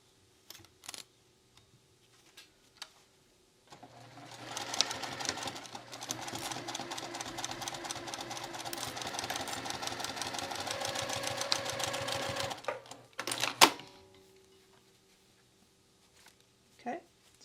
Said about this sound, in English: you're going to stitch down this edge here